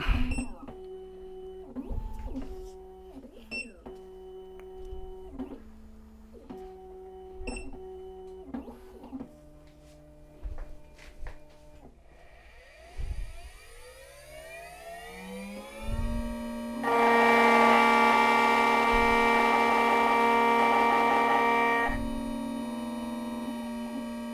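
Black Widow key machine cutting a Master Lock M1 key with a 2mm cutter at speed 7, giving repeated whirring motor pulses and clicking steps that build into a loud sustained grinding whir near the end, with no talk.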